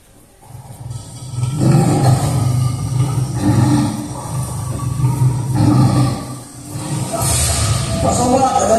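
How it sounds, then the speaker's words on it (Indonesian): During a stage cabaret performance a tiger roars repeatedly, loud and sustained, in long rough swells with short dips between them. The roars carry over a reverberant hall background. "Pak Somad, ada harimau"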